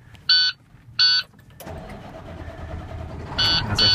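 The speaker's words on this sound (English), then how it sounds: "And as I fire the truck up" A truck's engine cranks and starts during a Class B CDL cab check. Two short warning chimes sound first, then the engine catches and settles into a steady close idle, and further chimes ring out near the end.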